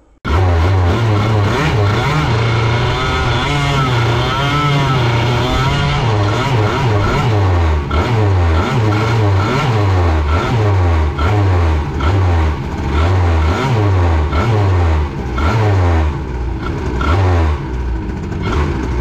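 A 2Fast 70 engine fitted with a Carters Boost is revved loudly and closely during break-in, rising and falling in a quick, repeated cycle of sharp revs for nearly twenty seconds.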